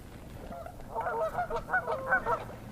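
Ducks honking while being fed English muffins, with a short burst of several nasal honks close by that rises and falls over about two seconds.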